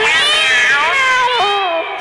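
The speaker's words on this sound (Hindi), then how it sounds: "बिल्ली बोली क्या मैं आऊं" A cat meows in an Urdu children's rhyme, giving one long, loud, drawn-out wavering mew that rises and then slides down, close and clear, with no talking over it.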